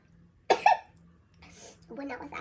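A single sharp cough bursts out close by after eating sour lemon, followed by quiet breathy vocal sounds.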